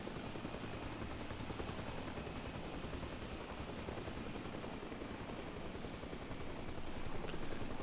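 Helicopter in flight in the military video game Arma Reforger, a steady, loud rotor and engine roar that holds unbroken throughout with no talking.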